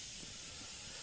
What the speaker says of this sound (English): Spray and get your cans ready.